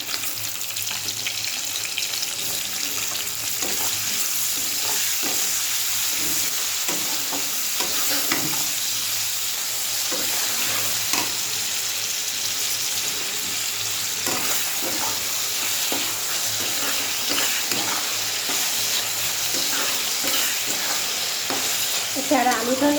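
Plenty of oil heating in a pan for chowmein, giving a steady close hiss of sizzling throughout, with occasional scraping and clinking of a utensil stirring.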